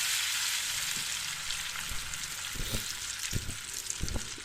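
Pakoras of gram flour batter with potato and onion frying in hot ghee in a pan, a steady bright sizzle throughout with scattered pops and crackles, close by and without speech.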